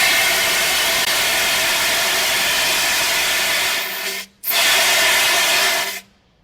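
A fire extinguisher discharges during a mock fire drill, a loud steady hiss of spray that cuts out briefly, bursts back on, then stops abruptly.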